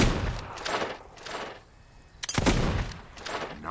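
Loud clusters of gunshots in the Fable 2 shooting gallery: a rapid volley, a quieter lull, then another sharp burst of shots close up with no talking.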